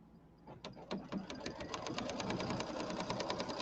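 An embroidery sewing machine stitches down a layer of batting, a fast steady run of needle strokes building from a few separate clicks into a continuous mechanical chatter, close and moderately loud with no voices.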